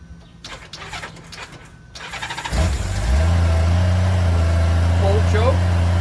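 A 1994 Honda GL1500 Goldwing motorcycle engine on choke cranks briefly, then catches and settles into a loud, steady low idle close by, with voices talking over it.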